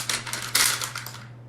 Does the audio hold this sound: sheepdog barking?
no